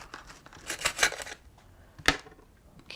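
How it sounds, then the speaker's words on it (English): A knife or scissors cuts through a rosemary olive oil tortilla burrito: a few crisp, close tearing crunches in quick succession, then a single sharp cut after a short pause. "So I want to cut my next burrito."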